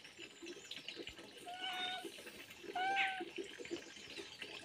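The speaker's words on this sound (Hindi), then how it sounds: "अरे देखिए हमारी बिल्ली को देखिए छत में" A cat on a rooftop gives two faint, drawn-out meows against steady outdoor background noise, fairly distant and quiet.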